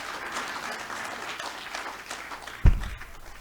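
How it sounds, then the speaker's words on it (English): Audience clapping at the close of an NGO meeting, a moderate steady patter that ends in one loud thump. "So you clap for me, eh?"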